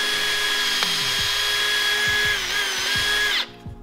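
A power drill drilling wood for a subwoofer box whines steadily at close range, its pitch dipping slightly under load, then cuts off abruptly near the end.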